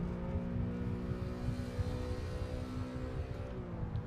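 Race car engine in a video game, held at full throttle through a tunnel, a steady reverberant drone at moderate level that keeps going without a break.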